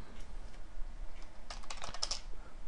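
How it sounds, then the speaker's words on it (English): Computer keyboard typing, a gaming-configured board, comes in quiet scattered taps at first, then a dense close burst of rapid keystrokes midway before easing off, with no voices. "I'm just going to type it in then."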